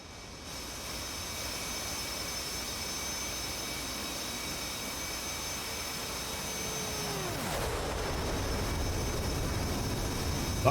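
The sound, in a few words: jet plane flying over in DCS World video game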